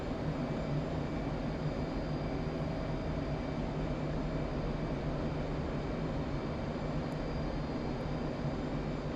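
An F/A-18 Hornet jet in the flight simulator DCS World flying low over a runway: a steady, even engine roar with a constant whine, unbroken and fairly quiet throughout.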